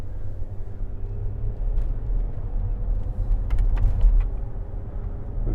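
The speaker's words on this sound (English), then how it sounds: "So I'll just take you for a ride in it now." A Range Rover Sport 3.0 SD V6 HSE being driven, heard from inside the cabin as a steady low rumble of engine and road, with a few faint clicks and creaks toward the end and no voices.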